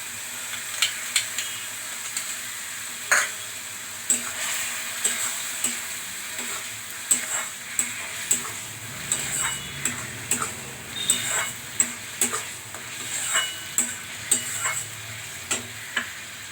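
Masala chickpeas with tomato paste sizzle in a pan while a spoon stirs them, giving soft continuous frying hiss broken by frequent sharp scraping clicks at an uneven rhythm, close and fairly quiet, with no talking.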